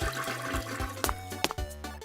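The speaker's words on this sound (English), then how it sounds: "So Romeo gave the toilet a really big flush so all his pee was gone" A toilet flushes at close range, rushing and gurgling water with a few sharp knocks and clatters over about two seconds, heard alone.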